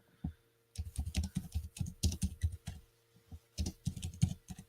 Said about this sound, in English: I'm just typing that up